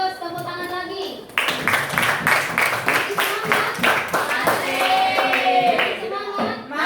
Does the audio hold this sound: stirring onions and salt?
no